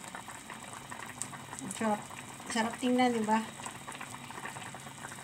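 Salmon sinigang with okra bubbles at a boil in a pot, a soft steady simmer running beneath a voice speaking over it.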